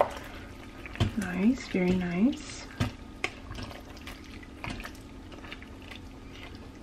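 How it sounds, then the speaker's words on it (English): Keto cauliflower dish bubbling in an Instant Pot, a soft wet simmering and dripping sound heard close up under brief praising speech, with a few sharp clicks. "It's bubbling."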